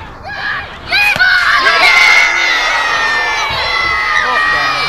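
A football crowd cheers in the second half of a Fash FC match, with an opening moment of scattered shouting that surges into a loud, sustained roar of cheers and whoops after about a second.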